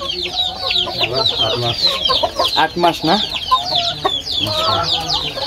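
Tiger chickens cluck steadily and loudly up close in a noisy, continuous flurry, with people talking over them.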